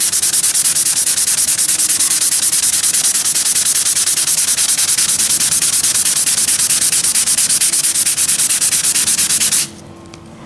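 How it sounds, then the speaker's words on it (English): Sandpaper rubs steadily over a peeling leather finish, a loud close hiss of continuous rhythmic scraping that runs unbroken for most of the time, then stops abruptly near the end. "let's just, you know, go here and see what we can do with the sandpaper"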